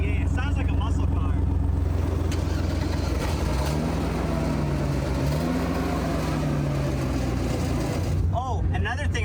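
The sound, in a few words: wood chipper engine starting and running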